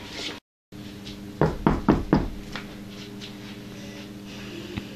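Knocking on a door, four sharp raps in quick succession, close and loud against a quiet room, followed by a faint softer tap near the end.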